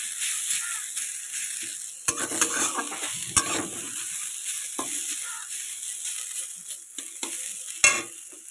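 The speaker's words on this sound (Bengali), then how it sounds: "আলুগুলো একটু ভেজে নেব হালকা" Lightly salted potatoes fry in a pan with a constant soft sizzle, while a utensil scrapes and clacks against the pan in irregular stirring strokes.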